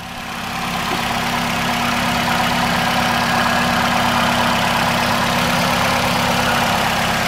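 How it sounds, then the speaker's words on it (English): A 2013 Nissan Rogue all-wheel-drive engine idles loud and close, a steady continuous hum with an even low drone that holds throughout. "The engine is running."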